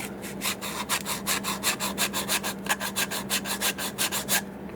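Hand beveling of a Taylor guitar part, a rapid, even series of close rasping strokes back and forth against wood, steady and moderately loud with no voices.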